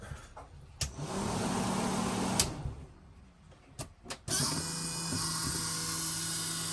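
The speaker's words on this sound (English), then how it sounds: "It's got a powered roof vent, and it actually is powered to open it." Powered roof vent motor on a Winnebago Voyage 2427RB camper, opening the vent: a few clicks and a rushing burst, then a steady, fairly loud electric motor hum that runs without talk.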